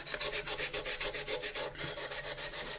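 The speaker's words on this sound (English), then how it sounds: "Try to keep your sand scratches going in the same direction, because if you cross sand, it'll come up just as a different angle." A plastic model kit of the AMT 1983 U.S.S. Enterprise is sanded with 800 grit sandpaper in quick, even back-and-forth strokes, giving a soft, close rhythmic scratching.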